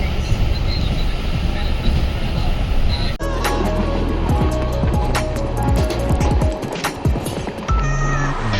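A train moving through the Konkan region, heard close from near an open door: a loud, continuous rumble and rattle of wheels on track that shifts abruptly partway through into heavier clanking with tonal squeals.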